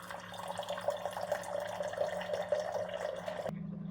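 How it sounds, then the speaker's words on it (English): Water streams steadily from a Waterdrop countertop reverse osmosis dispenser into a cup for a few seconds, close up, then cuts off abruptly, leaving a low hum. "we're gonna just go to the base temperature and dispense some water"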